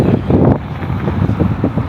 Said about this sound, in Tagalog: Grabe, super hangin dito ngayon.